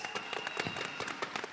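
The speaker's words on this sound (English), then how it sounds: "Can we all give CC Weller a round of applause?" A seated audience at a business panel event gives a brief round of applause, heard as a short stretch of quick, overlapping claps at moderate volume.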